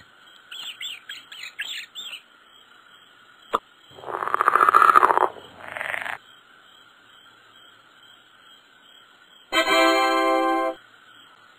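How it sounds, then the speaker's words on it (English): Toad croaking, played as one of several nocturnal animal sounds, with a loud burst of rapid pulsed trilling calls mid-clip and another buzzy pulsed call near the end, between fainter chirps. "Toad."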